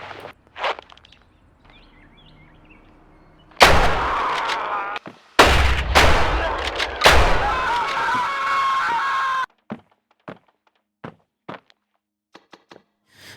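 Gunfire from a gun in the Roblox game Hellmet: several loud, sharp shots in quick bursts through the middle, then scattered fainter clicks and thuds, with footsteps and quiet stretches between.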